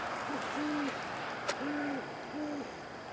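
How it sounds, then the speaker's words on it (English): An owl hooting in the wild at night, three or four soft, low hoots spaced apart over steady background hiss, with one faint sharp tap midway. "So that's the owl for you"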